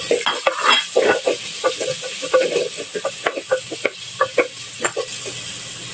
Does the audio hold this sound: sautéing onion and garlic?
yes